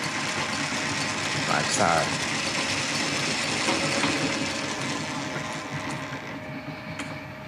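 The geared threading attachment of a Lorch lathe runs in reverse with a steady mechanical whir and gear hum, close and continuous, while someone speaks briefly over it.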